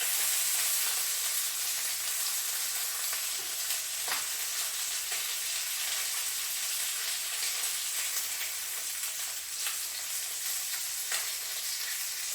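Chicken browning in a frying pan for chicken cacciatore, a steady bright sizzle and crackle of hot oil throughout, close and even with faint scraping ticks now and then, no voices.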